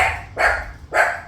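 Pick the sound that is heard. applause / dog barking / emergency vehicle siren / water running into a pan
dog barking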